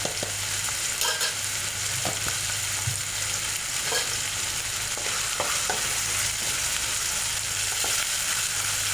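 Moong dal tadka with tomatoes and salt, dhaba style, stirred in a pot over a low flame, giving a steady soft sizzle with a spoon scraping and knocking at intervals.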